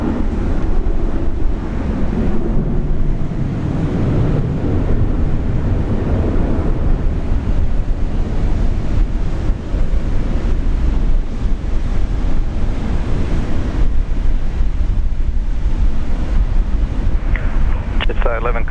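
A Jetstar 811 airliner taking off from Brisbane International Airport, a loud continuous roar of engines heavily mixed with wind buffeting the microphone, sustained throughout with talk over it.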